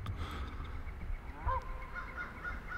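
Geese honk on a wooded state park trail, several faint, scattered calls rising over a quiet outdoor background, a little more prominent midway through.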